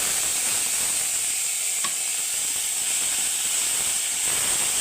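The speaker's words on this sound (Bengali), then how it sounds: "এটাকে কিন্তু আমি কিছুক্ষণ একটু কালার আসা পর্যন্ত ভেজে নেব" Onion paste with green chilli and ginger frying in a pan, a steady, even sizzle and hiss close up throughout, with one faint clink of a utensil partway through.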